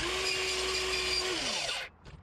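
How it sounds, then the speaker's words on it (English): A power drill with a bit in the chuck clears out aluminium from a DIY overdrive guitar pedal enclosure, its high steady whine running close and loud, then winding down and stopping into a short quiet stretch. "I'm just gonna put this drill bit in the chuck and clear out all this aluminium."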